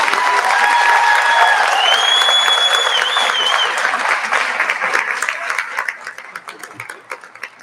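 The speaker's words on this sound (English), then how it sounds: "please help me by giving them a round of applause" Loud, dense audience applause at a high school graduation ceremony, with a few whistles and cheers riding over the clapping before it tapers off toward the end.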